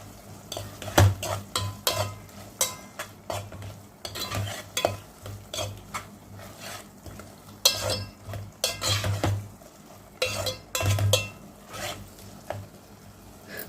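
Fresh ginger garlic paste is stirred into a tomato egg curry in a pan, a metal spoon scraping and clanking against the pan in uneven bursts over a soft sizzle, close up with no talking.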